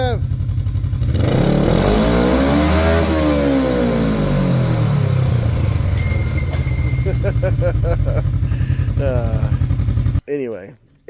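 A Kawasaki KRX 1000 side-by-side with an Evo bolt-on exhaust, missing its cover and some bolts, revs up to a loud peak and winds back down, then idles steadily close by before cutting off abruptly.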